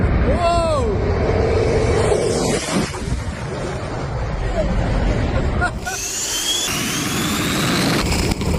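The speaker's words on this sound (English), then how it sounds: "Remarkable footage shows a biplane flying at 200 miles per hour coming within 2 feet of hitting a man on a runway." A biplane swoops low past a runway at about 200 miles per hour, its engine a loud, steady roar that rises and shifts as it passes close, while a voice talks over it.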